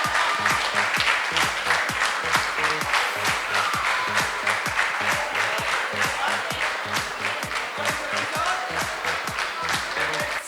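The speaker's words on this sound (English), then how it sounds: "Students, all the students to please rise up and give a round of applause." Students standing at a school reflections event give a sustained round of applause, steady crowd clapping across ten seconds, with a rhythmic low thumping beat running underneath and a few voices in the mix.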